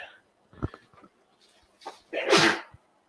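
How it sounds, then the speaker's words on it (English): A single loud sneeze bursts out near the end, preceded by a few short breaths and small vocal sounds, fairly close and otherwise quiet. "I had to sneeze real quick"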